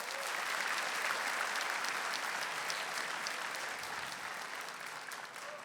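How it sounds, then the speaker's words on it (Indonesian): Studio audience at a stand-up comedy show breaks into steady, dense applause, a continuous wash of many hands clapping that gradually softens near the end. "Tepuk tangan semua."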